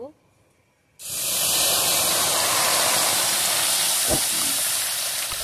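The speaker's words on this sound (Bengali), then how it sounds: "এবারে আমি কড়াইতে জল দেব" Water poured into a hot karai (wok) to boil drumstick vegetable pieces: a sudden loud, steady rushing hiss that starts after a quiet moment and continues unbroken, with one brief knock near the end.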